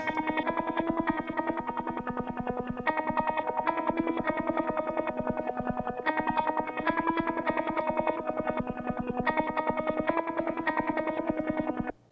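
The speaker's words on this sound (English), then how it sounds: "with the guitar, I did a reverse delay" A steady, looping electric guitar figure washed in swelling reversed echoes and filtered, effected tones, playing alone and filling the whole stretch.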